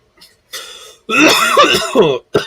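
Rough, throaty coughs and a harsh throat clearing burst out close by, a few quick hacks in succession.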